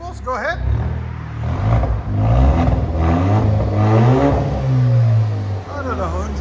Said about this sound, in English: That's the most we can rev it.